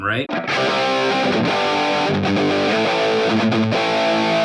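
A crunchy, distorted electric guitar through a NUX MG-30 chugs a steady rhythm part, loud and close, with a brief spoken word near the start.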